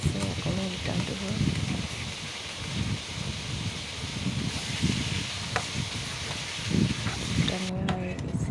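Chicken pieces fry in mustard oil with a steady crackling sizzle, continuing beneath a person talking throughout.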